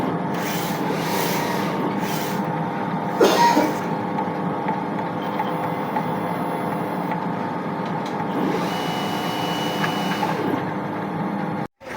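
A DTF printer head runs with a steady mechanical whirring and humming throughout, with a short louder scraping burst early on and faint sliding movements, then abrupt silence.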